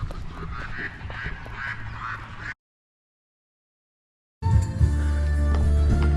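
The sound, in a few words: birds calling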